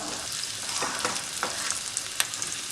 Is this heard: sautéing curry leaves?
yes